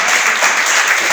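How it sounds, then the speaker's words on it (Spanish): A church congregation applauds in a dense, loud burst of clapping that fills the room evenly from start to finish, with no voices. "¿Cuánto le damos un aplauso al Señor?"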